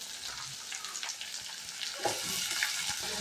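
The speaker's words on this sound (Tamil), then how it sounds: "வெங்காயம் 2 கட் பண்ணி வச்சுருக்கோம்ல பொடுசாக அதையும் போட்டுக்கிறோம். போட்டு நல்லா வணக்கி விடுங்க" Finely chopped onions sautéing in a pan for egg podimas, a faint but steady hiss of frying that swells a little louder toward the end, with light stirring scrapes mixed in.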